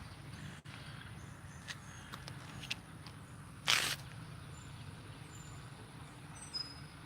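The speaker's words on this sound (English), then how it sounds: "It is school bus, y'all." A school bus rumbles past at a distance in a low steady drone, with a short hiss of air brakes partway through, heard faintly outdoors.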